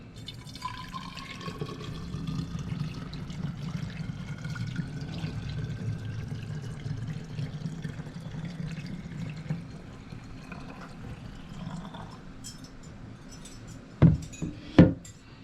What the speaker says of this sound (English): we'll just carefully fill up our bottle